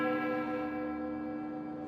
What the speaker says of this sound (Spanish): Se oyeron las campanadas